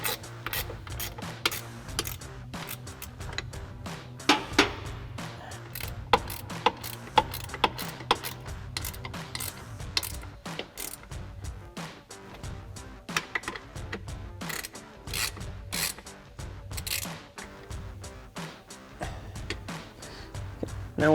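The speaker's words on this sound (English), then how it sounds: "we'll go ahead and snug those down using a 13 mil ratchet wrench" 13 mm ratchet wrench snugging down nuts on the brackets of power running boards on a Ford F-150, a steady faint run of fine clicks and rubbing throughout, fairly close.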